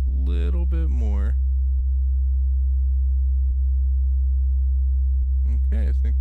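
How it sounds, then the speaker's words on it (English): A bass-boosted sub bass from the 3xOsc synth in FL Studio holds as a steady, deep, pure sine-like drone for several seconds, with brief talk at the start and end and faint clicks between. "This is how you get a sub bass with 3x OSC."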